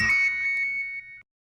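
A short electronic ringtone chirps once and fades out, clear and close, followed by silence.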